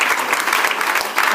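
A church congregation claps and cheers in acclamation of Jesus, a steady loud burst of many hands applauding together with crowd voices mixed in, filling the whole short moment.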